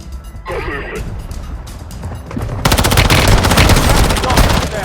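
Rapid automatic gunfire in the mobile shooter Call of Duty Warzone Mobile, with lighter scattered shots at first, then a loud, dense burst of sustained machine-gun fire taking over the second half.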